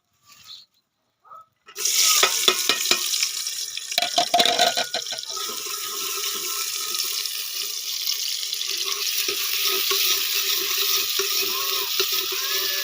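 Onions hit a hot pan and fry with a steady, loud hiss and crackle that keeps going after a few brief clatters at the start, with no voices.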